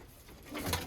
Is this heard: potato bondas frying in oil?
no